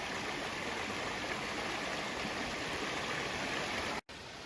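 A river runs steadily over rocks in a broad, continuous rushing wash that carries on alone with no voices, broken only by a brief dropout near the end.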